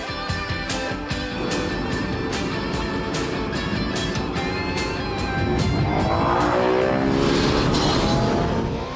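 Motorbike screaming along a racetrack at about 230 km/h, a loud sustained high-pitched engine roar with steady wind rush, holding one note, then shifting pitch near the end.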